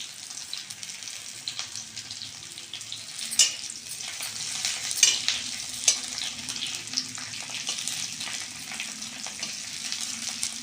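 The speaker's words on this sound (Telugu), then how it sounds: "ఫస్ట్ మనము ఫ్రై చేసుకుంటాము. ఎర్రగడ్డలు ఫస్ట్ వేస్తాము" Onions frying in a pan make a moderate, continuous sizzle with scattered spatula stirs and scrapes, louder bursts near the middle, and no one talking.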